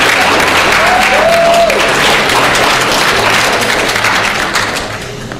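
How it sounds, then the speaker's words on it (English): A workshop audience breaks into loud, sustained applause to welcome a speaker, a thick roar of many hands clapping that thins toward the close, with a faint voice early on. "let's give a round of applause and we welcome King Kevin"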